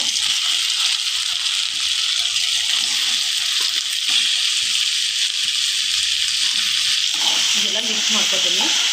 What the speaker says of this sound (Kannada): ಇದು ಕಲಿಸಿ ಇಟ್ಕೊಂಡಿರೋ ಚಿಕನ್ ಹಾಕ್ತಾ ಇದ್ದೀನಿ